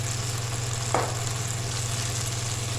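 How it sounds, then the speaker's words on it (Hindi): Tikki masala spices frying in a pan with red chili powder and turmeric, a steady soft sizzle over a low constant hum, with one brief scrape of stirring. "इसको भूनते हुए तकरीबन 3 मिनट हो गए"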